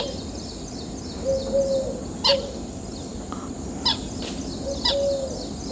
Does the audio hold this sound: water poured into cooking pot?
no